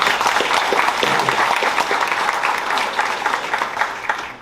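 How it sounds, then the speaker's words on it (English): Dense, steady applause from an audience at a press conference on a public-private partnership for safer communities, many hands clapping together at full strength for several seconds with no talk over it, easing slightly at the end. "let's give them another round of applause."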